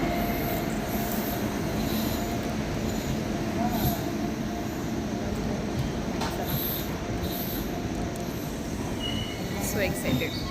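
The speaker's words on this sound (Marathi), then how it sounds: "ओके, सो ट्रेन आली आहे." Train pulling into a station, a continuous low rumble of wheels and carriages with occasional metallic squeals and clanks, steady and fairly close, with people talking faintly nearby.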